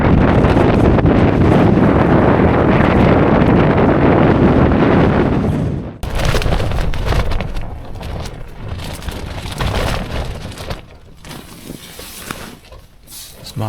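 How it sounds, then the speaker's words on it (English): Strong wind gusts batter a tent pitched on a mountain by Easedale Tarn, a loud, roaring rush that holds steady and then drops into uneven buffeting with sharp flaps and lulls. "This wind is getting well worse. Pretty noisy tent, to be honest, in the wind this."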